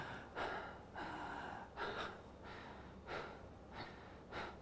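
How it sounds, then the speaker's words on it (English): Fast, erratic breathing through the mouth, a series of about seven quick, airy gasping inhales and exhales in an uneven rhythm, close and faint with no talk. "Unhealthy breathing patterns is when you're breathing quite fast and erratic."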